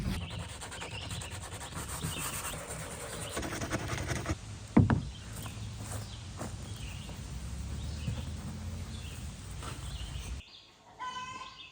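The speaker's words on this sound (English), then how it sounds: "All right, time to sand those down and get some epoxy in." Hand sanding on the hull of a 1991 Old Town Pathfinder canoe under restoration, a steady close rubbing rasp with a brief knock midway, ending in a short quieter pause.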